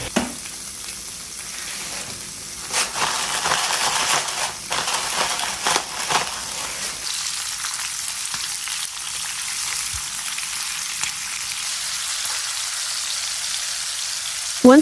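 Meat sizzles and crackles in hot vegetable oil in a pan for a Japanese stir-fry, a steady, close, hissing fry with some early stirring clatter.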